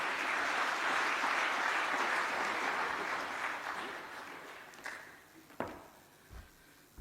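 Applause from the audience at an official Tanzanian government event where President Samia receives dividends from public institutions, a broad wash of clapping that gradually thins and fades, leaving a few scattered thumps and shuffles at the end.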